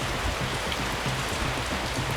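Heavy rain pours steadily at a gold mine, a dense, continuous hiss of drops drumming on surfaces with no pauses.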